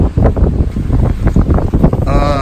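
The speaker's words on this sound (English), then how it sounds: "So it's a little windy out here." Strong wind buffeting outdoors, a loud, gusty rumble and roar pressing against the microphone in uneven bursts throughout, with no clear voices.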